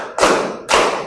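A room of junior high students in an Islamic school class claps in unison for a counting clap game, two sharp, full group claps about half a second apart, close and loud, with no talk.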